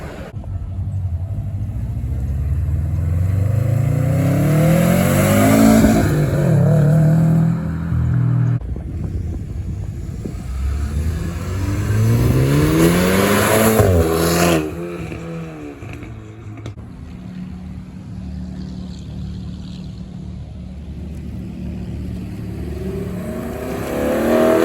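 A Ford GT350 at a cars and coffee meet revs and pulls hard, rising twice to loud roaring passes before a quieter idle that builds again near the end.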